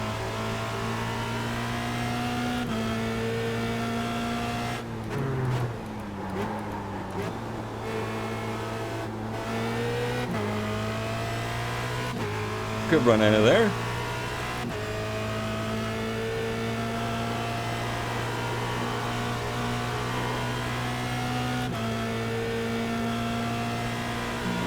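Formula Renault race car engine in iRacing at the Nürburgring GP, a steady droning whine of revs rising and falling through gear changes, with brief clatter mid-run and a short spoken remark.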